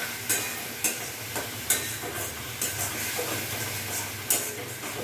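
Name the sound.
stirring and frying spices with tomato for rohu fish curry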